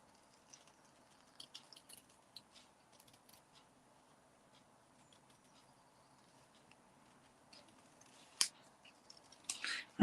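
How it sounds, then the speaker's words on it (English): Scissors snip through card in small, quiet, irregular cuts while trimming around shapes at a crafting desk, with a few sharper clicks near the end and no talk. "I'm just going to cut round these now."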